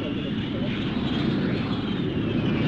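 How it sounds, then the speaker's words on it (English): An American SR-71 Blackbird spy plane arrives at the 1974 Farnborough airshow after a record transatlantic flight, producing a steady, broad, continuous roar that holds at an even loudness throughout. "The dramatic curtain raiser to the show is the arrival of the American spy plane SR-71."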